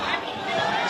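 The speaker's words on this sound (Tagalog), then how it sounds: "Sigawan ng mga tao dito, panoorin natin ha." A crowd shouts and cheers for a senator after a Senate hearing, a dense, steady wash of many voices close by.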